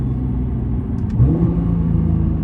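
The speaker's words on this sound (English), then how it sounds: "I'll shift you all the way down to 1st, and then we'll put it in automatic, so you can see everything shifts fine through the all gear ranges" Nissan GT-R engine dropping down through the gears, a steady close mid-range rumble with a brief swell of revs partway through as a lower gear engages, no voices.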